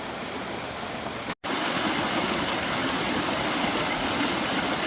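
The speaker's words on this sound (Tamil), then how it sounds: "செம்மையான ஒரு வாட்டர் ஃபால்ஸ் ஆமாம் தண்ணி ஓடிட்டுருக்கு" Water pours over rocks at a mountain waterfall in Sathuragiri, a close, loud, steady rushing roar with a brief cut near the start and no talk.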